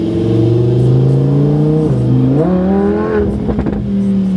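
Open-top convertible car engine rumbling steadily up close, with pitch dipping and then rising as it accelerates, a continuous loud drone with no voices.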